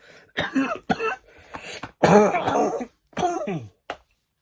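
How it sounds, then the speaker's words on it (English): Several harsh chesty coughs and throat clearing come in bursts with short pauses between them, close and fairly loud, with no other sounds. "I'm sorry, I'm coughing"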